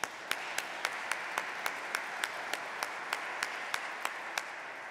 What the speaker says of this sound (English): God, let's give God a hand clap of praise